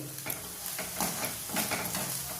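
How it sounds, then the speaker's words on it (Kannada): Spice powder and chili powder frying in hot oil while being stirred for onion rice bath, a soft steady sizzle with scraping strokes of a spoon at intervals, close and without talk. "ಈ ಪೌಡ್ರು ಮತ್ತು ಖಾರದ ಪುಡಿ ಎಣ್ಣೆಯಲ್ಲೇ ಫ್ರೈ ಆಗಲಿ"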